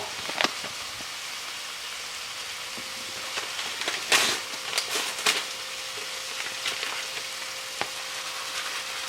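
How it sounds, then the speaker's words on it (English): Beef kebabs brown in a hot pan with mushrooms, giving a steady close sizzle and crackle. A few sharper pops and stirring clicks stand out along the way. "While my kebabs are browning"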